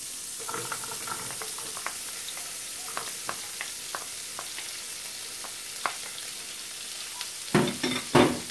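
Onion frying in melted butter in a pan for a bell pepper gratin, a gentle steady sizzle with scattered light crackles, then louder stirring clatter at the end.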